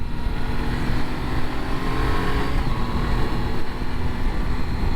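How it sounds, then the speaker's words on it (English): A motorcycle engine drones at high revs while cruising on a highway, a steady, loud, unbroken hum mixed with wind and road noise and no talking. "I don't know why they made it rev so high on the highway."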